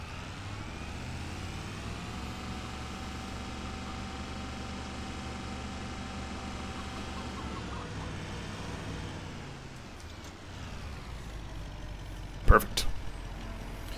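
A truck in Farming Simulator 25 rolling up with a steady low engine drone that eases off, followed by a sharp mechanical clunk near the end, while someone talks over it.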